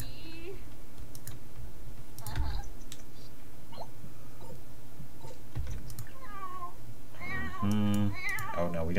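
A cat meows a few times in The Sims 4, with short tonal calls near the end that sit under steady keyboard typing and clicking.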